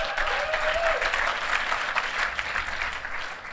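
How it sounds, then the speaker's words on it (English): An audience at a Shark Tank-themed entrepreneur event breaks into enthusiastic, close, dense clapping that stays loud across the short stretch with a faint whistle near the start and no speech. "So let's give them a round of applause."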